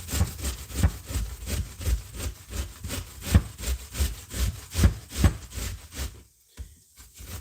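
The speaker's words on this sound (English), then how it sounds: "I'm gonna grate this as much as I can" Coconut being grated by hand in a home kitchen, a rhythmic series of about a dozen rasping strokes, close and fairly quiet, ending with a short pause.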